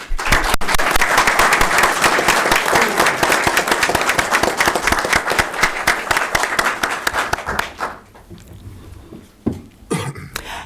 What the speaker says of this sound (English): please stand or raise your hand as we applaud your service to this land